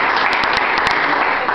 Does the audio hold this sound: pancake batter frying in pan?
no